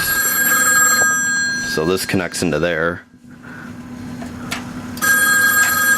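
A household landline telephone rings indoors during a desktop computer power supply repair, with long, steady electronic ring tones at the start and again near the end while someone talks nearby.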